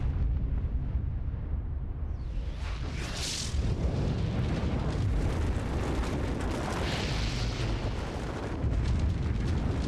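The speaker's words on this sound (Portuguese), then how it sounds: "determinar os efeitos de uma explosão nuclear em uma casa" A nuclear test blast tearing through a house, a sustained, loud roaring rumble with turbulent bursts lasting the whole span and no voices.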